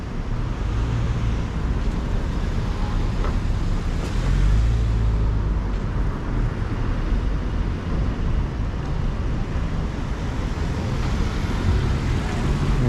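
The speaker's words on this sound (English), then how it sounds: "it actually looks like a traffic jam now" Dense street traffic in San Francisco's Financial District rumbles steadily, a continuous low drone of idling and slowly moving vehicles heard from the sidewalk, with no talk.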